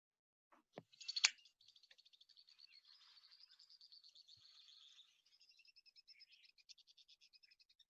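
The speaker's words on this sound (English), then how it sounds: "Very chatty birds." Small birds at Lewis and Clark Caverns give rapid, repeated high chattering trills in long runs after a few sharp opening notes, faint and distant, with no voices.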